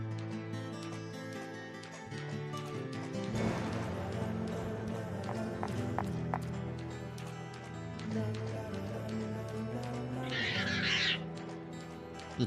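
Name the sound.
bird calls in Deadly Premonition video game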